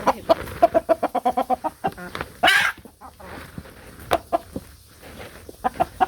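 Hens cluck in a Bangladeshi village yard in quick, rhythmic bursts close by, with a louder squawk in the middle and more clucking after it.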